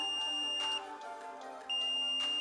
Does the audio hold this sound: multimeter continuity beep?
yes